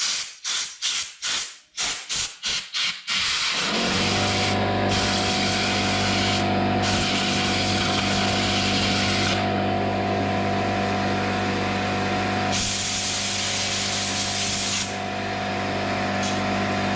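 Loud, steady hiss of compressed air and brake clean spray blowing out torpedo heater parts, starting with several short sharp bursts and then running as a long continuous blast with shifting intensity.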